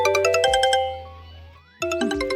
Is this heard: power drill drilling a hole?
no